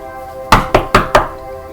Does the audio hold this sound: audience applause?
no